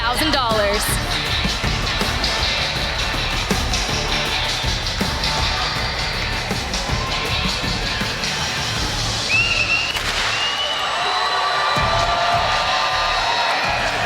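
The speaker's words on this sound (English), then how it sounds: "You hear the crowd. They've been cheering on our EU all day" A crowd at the grand final of a Warzone esports tournament cheers and shouts continuously, with loud whoops rising over a steady roar of voices and some talk mixed in.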